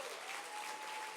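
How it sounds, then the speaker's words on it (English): Guests at the 65 Roses Ball applaud in a brief, dense burst of many hands clapping, heard from a distance at a steady level. "round of applause."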